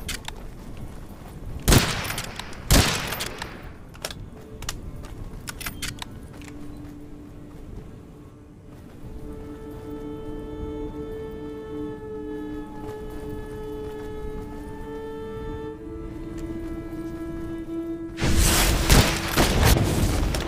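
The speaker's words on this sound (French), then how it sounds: "un double tir là" Gunshots in the video game Witchfire: a few loud, sharp blasts early on, then a sustained tonal hum, then a final cluster of heavy shots.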